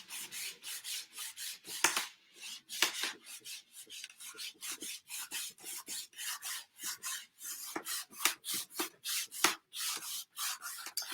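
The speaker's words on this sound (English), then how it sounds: "I'm wiping most of this off" Paint is wiped off a painted wooden Halloween door hanger in quick, repeated rubbing strokes, each a close, dry, raspy swish, coming in an uneven but continuous rhythm with no talking.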